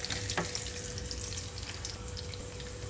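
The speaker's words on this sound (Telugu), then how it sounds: "అలాగే నలగొట్టుకున్న వెల్లుల్లిపాయలు, ఇవి తాలింపు కొంచెం వేగిన తర్వాత ఇందులోకి కట్ చేసి పెట్టుకుని ఉల్లిపాయలు పచ్చిమిరపకాయలు కూడా వేసేసుకుంటున్నాను నేను ఇక్కడ." Onions, green chillies and crushed garlic fry in hot tempering oil, a continuous soft sizzle with light crackle heard up close. No one speaks.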